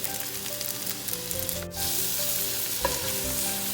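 Gulf shrimp frying in oil in a pan for pad thai, with a steady close sizzle and occasional stirring scrapes running throughout, no talk.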